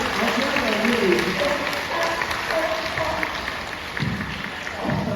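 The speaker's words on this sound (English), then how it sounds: "Give Roger a big round of applause" Spectators at a sea lion show at Knowsley Safari Park applaud, a moderate, somewhat distant patter of clapping that swells and dips, with voices mixed in and a few louder bumps near the end.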